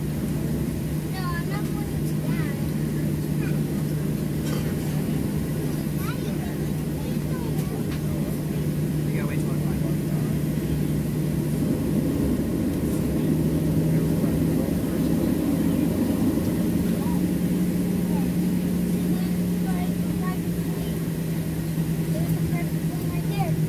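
Inside a Southwest Airlines Boeing 737-76N taking off from St. Louis, a steady loud jet engine roar fills the cabin continuously, a constant low hum holding throughout with little change.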